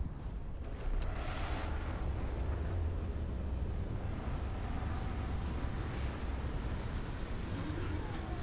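A spaceship in the video game Starfield comes in to land with a steady, loud rumbling roar and broad hiss that swells early and holds evenly throughout.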